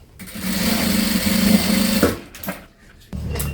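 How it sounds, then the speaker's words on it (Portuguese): A sewing machine stitching a bag strap, running in a fast, steady close buzz for about two seconds, then stopping with a few brief handling sounds before starting again. "primeiro eu vou fazer uma costura aqui"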